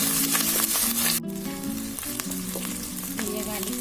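Ginger garlic paste frying in a pan for a mutton masala curry gives a steady, loud sizzle that runs the whole time, with a sharp drop partway through, then continues with light stirring scrapes.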